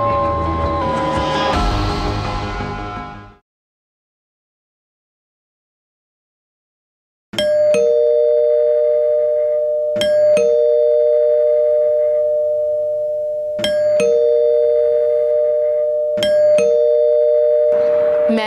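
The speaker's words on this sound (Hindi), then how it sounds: "मैंने दरवाजा खोल दिया है, अब घंटी से हाथ हटा भी लो" A doorbell rings again and again in a home, each press setting off a sharp chime that sustains loudly between presses, after a short burst of other sound and a stretch of silence.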